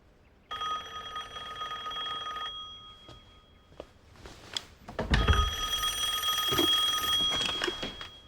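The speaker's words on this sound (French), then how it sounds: "qu'est-ce qu'elle signifie, cette sonnerie? On dirait un téléphone." An old-style telephone bell rings in bursts inside a home, a long metallic trill, a pause, then another ring, with faint clatter in between.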